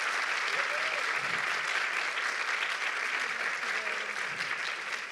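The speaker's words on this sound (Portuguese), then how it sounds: "Eu queria que a gente desse uma salva de palmas para a Dai." A Brazilian event audience on a panel about climate, fashion and art claps steadily throughout, a dense, even wash of applause with a few faint voices mixed in.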